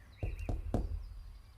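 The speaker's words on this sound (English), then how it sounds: "Alice went timidly up to the door and knocked." Three distinct knocks on a door, evenly spaced and fairly close, each a dull thud with a woody edge, against a quiet background.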